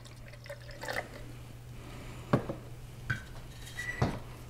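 Hydrogen peroxide is measured out for a film processing tank: a few quiet clinks and taps of containers, with faint trickling and pouring of liquid against a low background hum.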